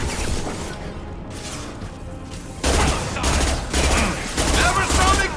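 Assault rifle fire in the Mass Effect 2 video game rings out in loud, rapid bursts, at first intermittent and then much denser and more sustained during a hectic firefight.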